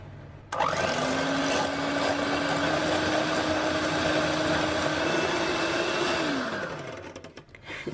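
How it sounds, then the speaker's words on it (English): Egg white being beaten in a bowl with an electric mixer or whisk, a steady high-pitched motor whine holding for about six seconds before winding down, loud and close with no talking. "now we're going to whisk it until it is thick and fluffy"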